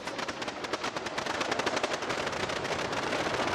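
A simulated light aircraft piston engine in Flight Simulator 2020 sputters in a rapid, rough stream of close, loud pops that grow slightly denser and louder as it runs, with no talking.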